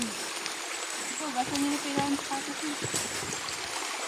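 River water flows steadily with a broad, hissing rush, heard close and continuous, with faint voices in the background, in Bulacan, Philippines.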